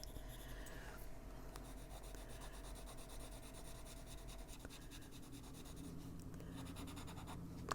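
A colored pencil scratches across paper while coloring, making a continuous faint, dry rasping of close back-and-forth strokes, with no talking.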